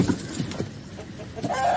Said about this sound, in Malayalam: കുറച്ച് കോഴികളൊക്കെ ഉണ്ട്.